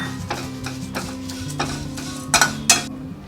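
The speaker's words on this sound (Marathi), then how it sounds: "आता आपण पोहे परतून घेणार आहोत" Poha (flattened rice) being roasted in a pan for chakli bhajani, with a spatula scraping and tapping the metal in irregular strokes, several sharper scrapes near the end, over low steady background noise.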